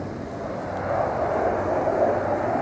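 An F-35 fighter jet makes a low flyover at an airshow practice day, heard as a broad, distant jet roar that swells gradually louder across the few seconds.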